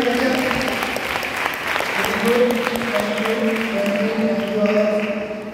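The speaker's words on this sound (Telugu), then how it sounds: "నేను కూడా మిమ్మల్ని చప్పట్లు కొట్టమంటున్నాను. కొట్టండి ఒకసారి." Congregation clapping together in a church during a Passiontide Sunday Lenten worship service, a steady dense wash of applause lasting throughout, close and fairly loud with no talking over it.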